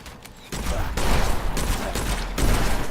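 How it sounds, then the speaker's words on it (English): A wisp enemy in the game Witchfire casts small explosions, heard as a dense run of loud crackling bursts, rattling like rapid gunfire. "And it will cast those little explosions"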